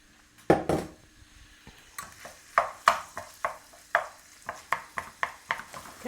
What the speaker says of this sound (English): We're going to add the beef and then get it nice and brown.